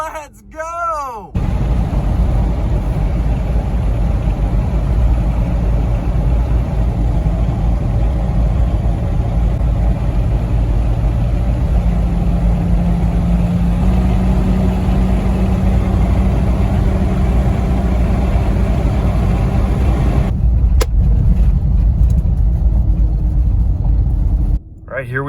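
A restored classic Mitsubishi Montero engine runs throughout, a steady low rumble that holds for roughly twenty seconds during a test drive, with brief quieter moments at the start and end.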